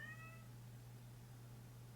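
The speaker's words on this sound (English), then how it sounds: "Even my cat is worried." A pet cat gives one short, faint meow at the very start, then only quiet room hiss and a low electrical hum remain.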